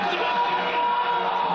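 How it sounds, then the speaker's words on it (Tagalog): Filipino basketball fans cheer and yell loudly as they welcome Memphis Grizzlies NBA star Ja Morant on his first visit to the Philippines, a dense, steady roar of crowd voices throughout. "Malakas na hiyawan ang sinalubong ng fans ni Ja Morant ng Memphis Grizzlies sa kanyang unang pagbisita sa Pilipinas."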